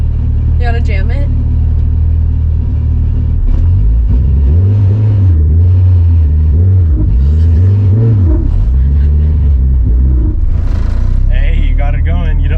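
A Mitsubishi Evo 9 pulls away with a loud, close engine rumble that rises and falls in repeated revs as the driver works the gears, with people talking and laughing inside the car.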